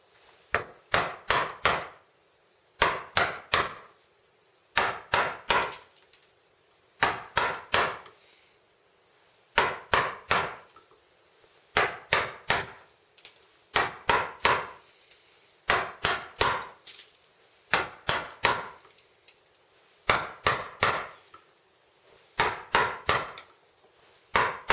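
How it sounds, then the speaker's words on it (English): A sharp 3/8-inch chisel is struck repeatedly to chop dovetail tails in pine: crisp, close wooden knocks in tight clusters of three to five blows, each group separated by short pauses, steady and rhythmic with no talking. "Then I'll go to a 3/8 chisel."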